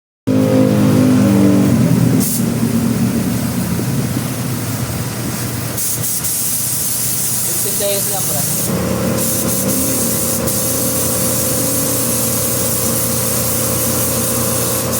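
4-in-1 coin-operated carwash vending machine running with every button pressed at once: a steady loud mechanical hum with motor and spray hiss, tones shifting early on before settling into a constant drone, no talk.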